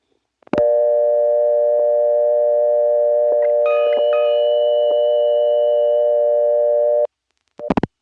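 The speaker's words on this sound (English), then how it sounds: "Here's that ring on an intra-office call." A 1977 telephone ring on an intra-office call in Rock Hill, South Carolina: a single long, steady electronic tone lasting several seconds, preceded by a click and followed by brief clatter as the line changes.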